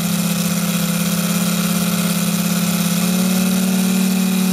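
RCS150 engine on a test stand running steadily at 40% throttle under PC control, a loud continuous drone with an even buzzing pulse and a slight shift in pitch partway through, no voices.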